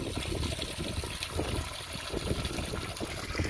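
Water trickling and draining out of a hydroponics container outdoors in winter, a steady close splashing dribble with no talk.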